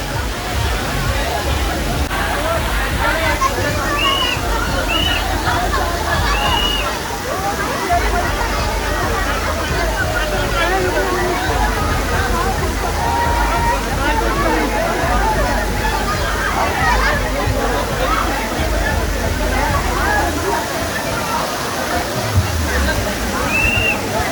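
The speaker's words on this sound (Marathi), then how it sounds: "तर गाईज आता त्याच्यातून पाणी पडणार आहे" Continuous rushing splash of water falling from a fountain, steady and fairly loud, with a crowd's babble and voices mixed underneath.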